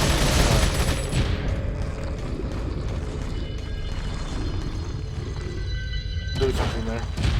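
Gunfire in Resident Evil 4, a steady dense barrage of shots and booms under a game soundtrack, loud and continuous with chatter from players mixed in.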